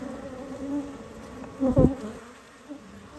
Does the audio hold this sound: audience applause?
no